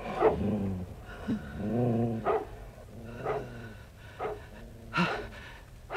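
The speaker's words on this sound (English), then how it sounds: "Did you see where the dog came from?" A dog growls in a tense indoor scene, several low throaty rumbles rising and falling over six seconds, close and fairly loud with no talk over it.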